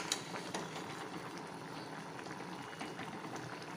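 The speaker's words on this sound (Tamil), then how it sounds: "மூடி வச்சு நல்லா முள்ளங்கிலாம் வேகட்டும்" Radish sambar boiling in a covered pot, a soft, steady bubbling and gurgle heard close but faint, with small pops scattered throughout.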